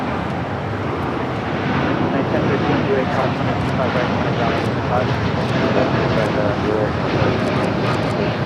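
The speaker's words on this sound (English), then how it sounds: "That was Air Canada 788 taking off to Toronto on the 787-9 Dreamliner" An Air Canada Boeing 787-9 Dreamliner departing LAX for Toronto, its engines a continuous, broad roar that holds steady throughout, with wind buffeting the microphone.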